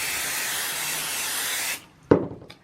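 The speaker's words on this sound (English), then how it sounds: "And then I go ahead and just spray a little bit there" Spray basting adhesive hisses steadily from an aerosol can onto quilt fabric for a tote bag, a close, continuous spray that cuts off abruptly, followed by a brief soft rub of smoothing the fabric.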